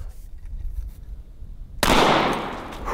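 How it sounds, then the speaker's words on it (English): A shotgun loaded with 9-pellet double-aught buckshot fires one loud, sharp blast that rings out and slowly decays, after quiet background rumble. "And for the shotgun this time, we will use a 9-pellet double-aught buckshot."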